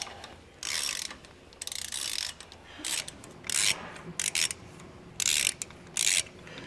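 A ratchet works bolts loose that hold up the sway bar on a 2016 Winnebago Spirit motorhome, in several close, loud bursts of rapid clicking with short pauses between them.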